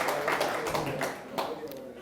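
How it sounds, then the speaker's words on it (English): Audience applause at a prison reform arts award event, a brief burst of scattered clapping from a modest crowd, moderately loud with a voice speaking over it. "Please, a round of applause."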